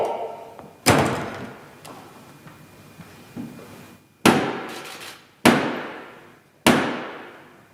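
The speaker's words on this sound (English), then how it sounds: "Close the door." Heavy door in the House of Commons chamber banging shut, several loud sharp slams with echoing decay, spaced a second or more apart in a reverberant hall, no talk.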